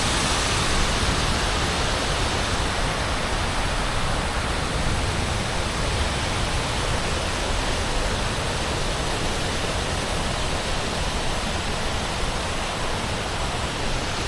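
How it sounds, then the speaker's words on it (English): Water from a sculpted waterfall on a downtown Louisville riverfront pours steadily onto the surface below, a dense, continuous rushing wash that stays loud and even throughout with no voices. "Just listening to the sounds of that water hitting the surface is very relaxing."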